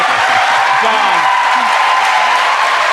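A live studio audience applauds with dense, steady clapping and faint cheers that fill the whole stretch, while a voice talks under it.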